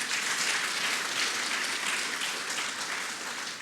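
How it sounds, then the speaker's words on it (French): Applause from an audience at a parchment presentation ceremony for President Macron, a dense, steady wash of many hands clapping at moderate distance, holding evenly throughout. "On peut applaudir le président Macron."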